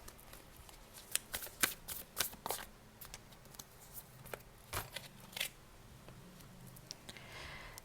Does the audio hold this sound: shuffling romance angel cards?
yes